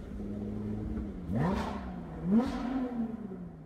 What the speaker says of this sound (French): Dans le tunnel, je vais mettre quelques coups de gaz, comme ça, ici vous allez bien entendre.